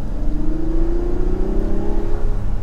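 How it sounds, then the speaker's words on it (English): A 2024 Mazda CX-90 Turbo S with an inline turbo engine and mild hybrid system accelerates, its engine note rising steadily in pitch as it pulls, heard close and continuous from inside the car with no talk. "stepping on the gas."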